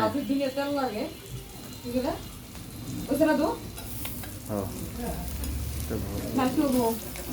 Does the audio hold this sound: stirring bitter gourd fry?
yes